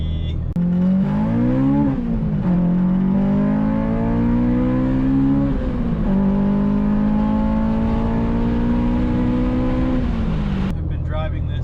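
A Honda Civic EK with an ITR engine swap drives along, its engine note rising and falling through gear changes as a steady, close drone inside the car.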